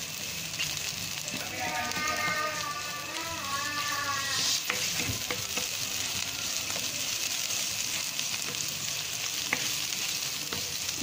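Ginger and onion sauté in a hot pan for chicken adobo with mushrooms, giving a steady, close sizzling hiss with occasional stirring scrapes and a faint voice in the background.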